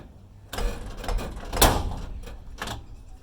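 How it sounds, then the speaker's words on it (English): A metal cargo door on a school bus opens and latches with a series of close clunks and rattles, followed by a sharp locking bang and a final softer knock. "You're gonna check your cargo doors if equipped."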